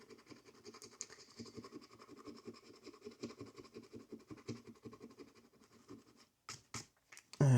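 A coin or fingernail scrapes rapidly and repeatedly across the scratch-off square of an advent calendar, a close, quiet rasping rhythm that stops and is followed by a few sharp taps.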